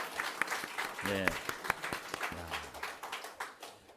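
A congregation in a church claps in thanks, with scattered hand claps close by. A voice talks over the clapping and briefly speaks up in the middle and again later.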